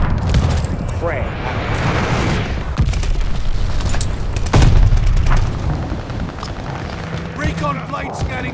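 Frag grenade explosion in the Call of Duty: Vanguard shooter, a loud booming blast landing amid continuous gunfire and battlefield noise, with game voice callouts over the combat.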